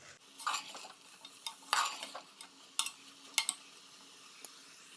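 Soya chunks, rice and vegetables for a pulao frying in a pan, with soft scraping stirs and spoon clinks over a faint sizzle, close and fairly quiet, no talking.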